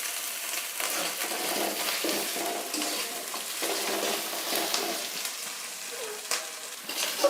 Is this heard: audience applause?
no